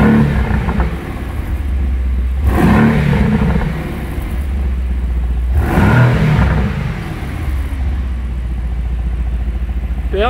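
A Mercedes-AMG GT R engine is revved hard in loud bursts, two sharp rising blips over a steady idle, close and with no talking.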